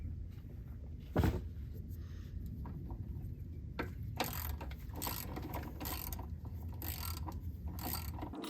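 A socket wrench ratchets on the 15 mm oil drain plug of a Ford F150 with the 5.0L engine, giving repeated clicking bursts close by over a steady low hum, with one sharper knock near the start.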